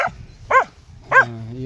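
Dog barking in a few short, sharp, tonal bursts spaced about half a second apart, close by and fairly loud, with a faint low rumble underneath.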